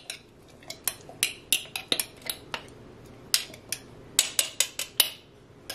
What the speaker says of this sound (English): first you stir it